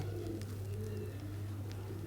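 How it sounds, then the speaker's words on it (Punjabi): A pigeon coos softly, a low steady murmur running under the whole span over a constant hum, with a few faint high chirps from other birds around a rooftop loft. "ਇਹ ਆ ਗਿਆ ਜੀ ਇਹ ਕਬੂਤਰੀ ਕਾਲੀ ਪੂਛ ਵਾਲੀ"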